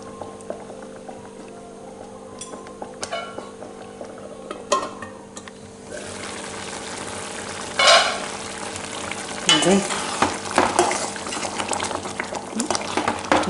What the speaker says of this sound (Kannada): ಈಗ ಸರಿಯಾಗಿ ಕುದಿಸಿಕೊಳ್ಬೇಕು.